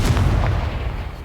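Confringo blasting spell cast in Hogwarts Legacy on Xbox Series S: a single loud, close booming blast with a heavy low thump that slowly decays over about a second.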